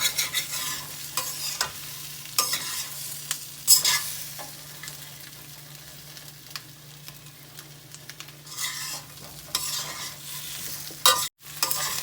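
Gunda (glue berry) vegetable curry being stirred in a pan, with scraping spoon strokes and a soft steady sizzle of frying running underneath, fairly close and without talk.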